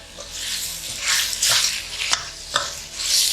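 Tomatoes sautéing in a pan for roadside-style parotta salna: a steady close sizzle with repeated scraping stir strokes and small clinks of a spoon on the pan, with no talking.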